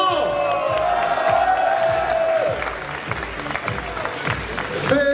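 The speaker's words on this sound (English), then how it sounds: "s'il vous plaît, applaudissements." An audience at a podium award ceremony applauds and cheers loudly, with dense clapping that carries on steadily over a few seconds while voices call out.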